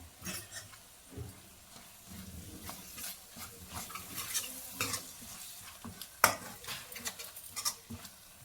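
Curd is stirred into an egg masala gravy simmering on low heat, a soft sizzle beneath repeated scraping strokes of a spoon against the pan and one sharp clink.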